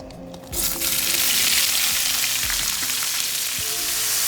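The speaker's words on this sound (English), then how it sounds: "when you hear that sizzle start to come down, that's the water coming out of the onions" Onions sizzle loudly in a hot skillet as their water cooks out, a steady bright hiss after a quiet start, with faint stirring scrapes underneath.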